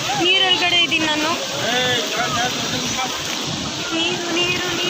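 Water pours down a village waterfall in a steady, loud rush, with voices talking over the roar throughout.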